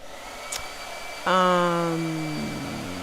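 A blow dryer switches on abruptly partway through and runs as a loud, steady motor whine whose pitch sags slightly, after a quiet stretch with a brief click.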